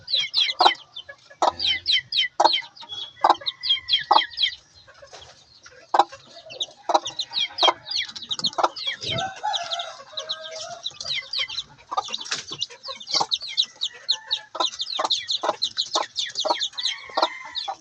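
Three-day-old chicks peep in a dense, continuous chorus of short, high-pitched chirps, with many birds calling at once close by and no voices.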